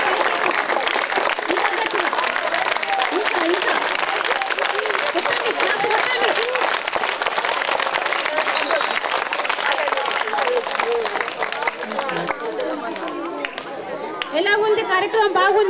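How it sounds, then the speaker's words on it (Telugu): Loud, sustained clapping from a room full of students at a school meditation camp, dense and continuous, with a hubbub of voices mixed in and the applause thinning toward the end. "క్లాప్స్ కొట్టండి గట్టిగా"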